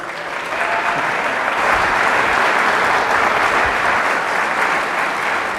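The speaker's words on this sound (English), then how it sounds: "Please give a round of applause for Joseph P. Farrell." Loud, steady applause from an audience welcoming a speaker at a lecture, swelling in the first second and then holding a dense, continuous clatter of many hands to the end.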